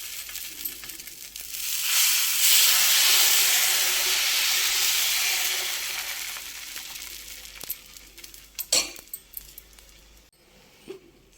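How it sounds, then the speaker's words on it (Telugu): Dosa batter hits a hot pan with a loud, broad sizzle that swells and then gradually fades, followed by scattered clinks and scraping of utensils near the end. "ఇప్పుడు ఇంకొక దోశ వేసుకుందాం."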